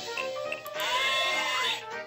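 A cartoon sheep bleats in the Disney Junior video game Mickey's Animal Parade: one wavering, drawn-out bleat follows a few soft game blips, clear and alone against a quiet background.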